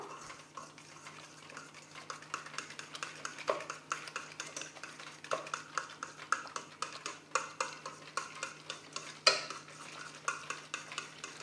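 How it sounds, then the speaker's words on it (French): A spoon stirs a yogurt mixture in a bowl, making steady scraping and clinking strokes with occasional sharper taps against the side. It is close and fairly quiet, with no talking. "Et puis, vous remuez en même temps."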